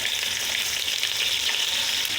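Onions and whole spices (bay leaf, cinnamon, cloves, star anise) frying in oil, a steady close hiss of sizzling with no talk throughout.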